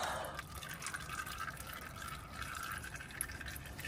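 Motor oil drips and trickles steadily from a Dodge Hellcat during an oil change, a continuous close liquid patter with no talk over it.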